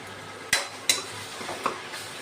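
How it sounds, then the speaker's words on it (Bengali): Ginger-garlic spice paste fries quietly in a pan beneath a low sizzle, broken by three or four sharp spatula scrapes and clinks as it is stirred. "মশলাটা ভালোভাবে ভাজা হোক।"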